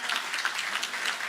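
Audience at a ribbon-cutting ceremony for a student-athlete performance center applauds in a brief, even burst of many hands clapping, moderately loud throughout.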